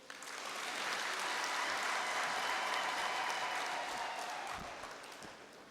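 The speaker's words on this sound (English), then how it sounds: "May we give the Honorable Minister another round of applause, please" Crowd at a university graduation ceremony applauds in a large hall, a broad wash of clapping that swells quickly, holds steady for several seconds and then fades.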